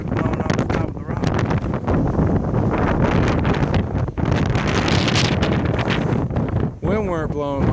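Strong wind roars continuously across an exposed rock top on the Nova Scotia coast, buffeting the microphone loudly, with a voice briefly talking under the gusts near the end.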